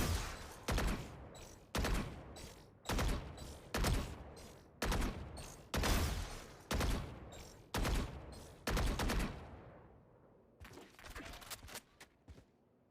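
Gunfire from a weapon in the shooter game Valorant, fired in about ten evenly spaced loud bursts of rapid shots, then quieter scattered pops trailing off at the end.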